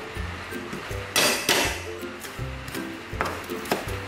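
A knife chops and minces green onion roots on a cutting board. Crisp, uneven knocks, some louder than others, sit over quiet background music.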